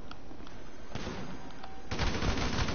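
Gunfire in the video game GTA V comes as a rapid burst of shots that thickens into dense continuous firing toward the end, loud and close in the game mix.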